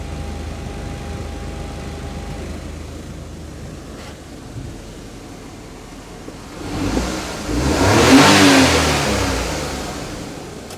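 A 660cc Suzuki Alto VXR engine revs up from a steady idle into a loud, rising roar that peaks and lingers, close by with no talking.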